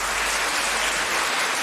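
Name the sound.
audience clapping at a school debate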